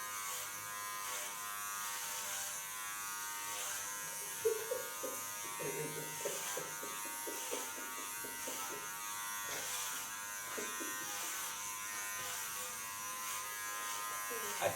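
An electric hair clipper fitted with a comb guard buzzes steadily as it cuts hair, a close continuous hum with brief scraping bursts, while a voice talks intermittently over it.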